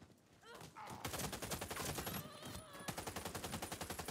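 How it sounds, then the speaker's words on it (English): Rapid sustained bursts of fire from an AUG A3 HBAR light machine gun in Warface, a dense run of sharp, evenly spaced shots filling the whole stretch, with brief voice-like sounds mixed in early on. "I'm using the AUG A3 HBAR, which is a light machine gun"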